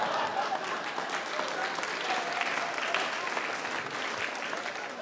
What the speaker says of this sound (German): Applaus für die junge Dame hier vorne